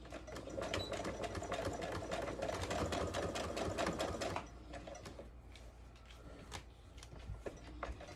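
A sewing machine stitches an elastic fabric scrunchie, running steadily and loud for about four seconds, then slowing to softer intermittent mechanical ticks and clicks.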